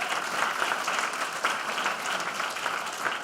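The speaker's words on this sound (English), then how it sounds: "All right, we'll give them an applause too. Let's clap again." An audience at a leadership council event claps together in a steady, moderately distant round of applause with no talking over it.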